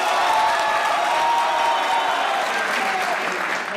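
Loud, sustained applause from a studio audience at a comedy talk show, a dense roar of clapping with some crowd noise mixed in. It holds steady and eases slightly at the end.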